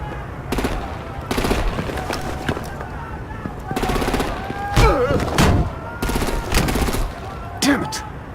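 Bursts of rapid automatic gunfire and heavy firing in the Batman: The Enemy Within video game, loud and close in repeated volleys, with voices shouting between them.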